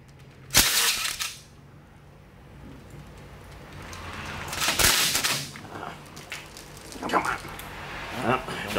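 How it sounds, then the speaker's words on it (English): Fireworks going off outside on the Fourth of July night, heard from inside a workshop: a few sharp, distant bangs and crackles spaced several seconds apart over a low background hum. "you can hear the fireworks out there tonight"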